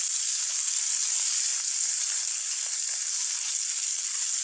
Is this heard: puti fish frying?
yes